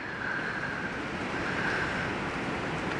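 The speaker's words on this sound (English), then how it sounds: "There's the wind." Strong wind blows outdoors as a storm approaches, a steady, dense roar with constant gusting rush and no breaks, close to the microphone.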